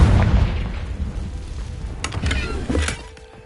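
Confringo blasting spell going off in Hogwarts Legacy: a heavy, low booming explosion that rumbles and fades, followed by crackling debris bursts, loud and close.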